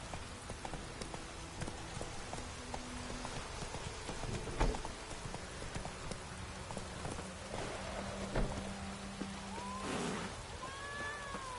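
Horse hooves clop in The Witcher III: Wild Hunt, a steady rhythmic trot under continuous rain and ambient game sound, moderately loud throughout.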